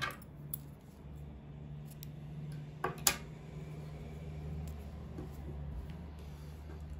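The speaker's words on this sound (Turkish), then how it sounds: "İpliği kesiyorum." Scissors snip yarn during crochet work: a couple of quick, close cutting clicks stand out against a quiet room hum.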